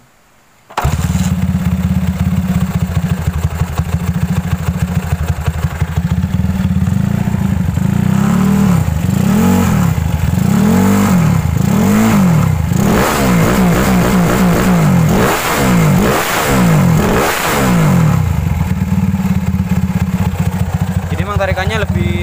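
A Honda CB motorcycle fitted with a small magnet starts up and idles, then revs hard through repeated throttle blips and climbs on a test ride, loud and close, with voices heard under the engine.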